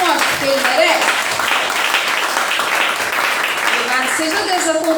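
A church congregation at a deliverance service claps loudly and steadily for several seconds, with a voice speaking over the applause at the beginning and again toward the end.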